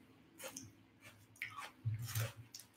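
Crunchy chewing of pizza with raw onions and beef topping during a mukbang meal: close, moist bites and chews in an uneven rhythm, quiet overall with louder crunches near the end.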